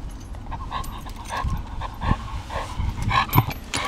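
A German Shepherd dog huffs and puffs nearby, with rapid, uneven panting breaths and soft snorts in a quiet room.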